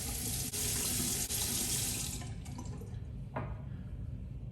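Running tap water rinses a shaving razor, a close, full rush into the sink that drops after a couple of seconds to a thinner trickle with a brief splash, no voices.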